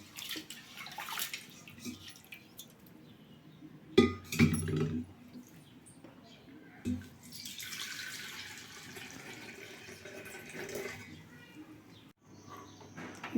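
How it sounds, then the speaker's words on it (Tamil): Rice-rinsing water is poured into a cooking pot for pongal, a soft running splash with a few metallic clinks and knocks, fairly quiet and close, with no clear talk. "இப்போ இந்த தண்ணி ஊற்றி, இந்த தண்ணி தாங்க முதல்ல அடுப்பில் வைக்கணும்."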